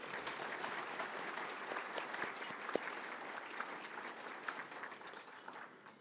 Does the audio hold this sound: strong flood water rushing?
no